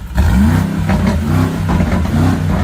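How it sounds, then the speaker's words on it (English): A car engine revs loudly and close, with a steady throaty drone that rises and falls in a few swells and keeps on for a couple of seconds. "Is that her or the car? That's a car."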